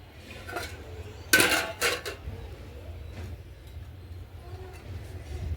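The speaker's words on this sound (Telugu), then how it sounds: "మూత పెట్టుకుందాం" A lid goes onto a pot of dum biryani cooking on a village wood-fired stove, giving a short burst of bright metallic clatter and a couple of knocks, then a quiet low background hum.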